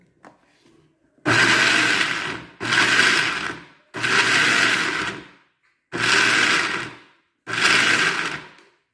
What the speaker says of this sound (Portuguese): A água e vamos continuar pulsando o liquidificador.